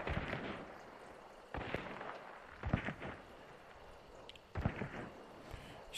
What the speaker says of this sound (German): Noch weiter rechts Schüsse jetzt.